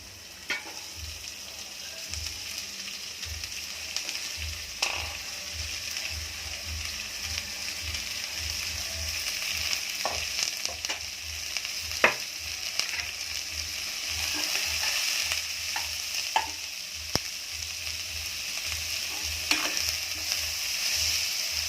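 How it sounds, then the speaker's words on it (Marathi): Chopped green beans sizzle in a pan with golden garlic, and a spoon keeps stirring and scraping through them. The frying hiss stays steady and close, with no speech. "लगेच आपलं कापलेले बीन्स टाकायचे"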